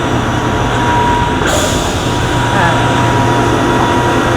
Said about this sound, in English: They will put this wood into this machinery